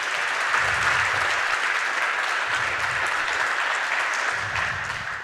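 Steady, dense applause from a large conference audience welcoming a talk speaker onstage, filling the room evenly for several seconds and tapering slightly at the end.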